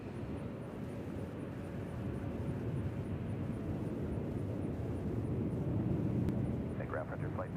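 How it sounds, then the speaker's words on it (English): A Boeing 737-9 jet airliner roars steadily at Nashville International Airport, a loud, broad, rumbling engine noise that holds and swells slightly with a faint high whine, while a voice talks briefly near the end. "What is that? 321? 737-9. These make a lot of noise if you haven't noticed."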